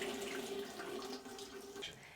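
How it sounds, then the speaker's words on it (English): Water runs steadily from opened household taps being drained, a continuous rushing flow that holds fairly level throughout with no voices. "turn on the taps and drain the water"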